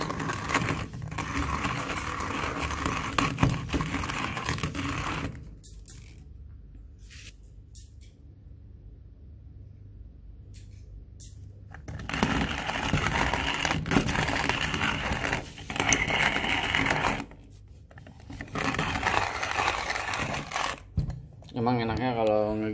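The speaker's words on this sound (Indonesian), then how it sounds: "Kita giling dulu. Kopi Bajawa Black Honey." Bajawa Black Honey coffee beans are ground in a hand-cranked manual grinder, a close, steady gritty crunching that pauses partway and then resumes, with some voices in between.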